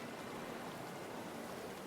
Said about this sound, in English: No, it's not just a river, it's a waterfall.